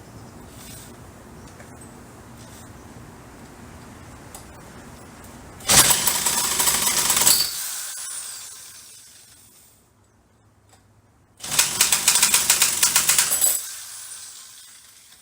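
A Poulan Craftsman 2150 chainsaw, throttle held open, is pulled twice: two loud bursts of starter-cord rattle and sputtering engine noise, each lasting about two seconds, separated by near-silence, with no sustained running.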